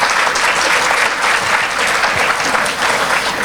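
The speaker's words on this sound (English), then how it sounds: "let's give them a round of applause for doing that" Audience applause at a chamber of commerce non-profit showcase, a dense, steady wash of many hands clapping at full volume throughout, with no talk over it.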